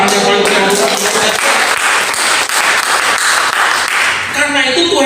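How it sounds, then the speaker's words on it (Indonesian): A congregation at an apartment worship service claps loudly and enthusiastically throughout, dense and close, with voices heard over the applause. "Beri tepuk tangan yang paling meriah"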